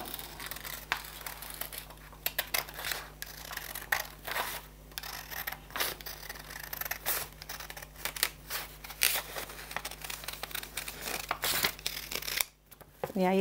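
Scissors cutting paper up close, a long run of quick crisp snips and rustling crinkles with brief pauses, under a steady low hum.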